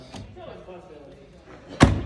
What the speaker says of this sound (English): Jerry, show me what it looks like with that door shut.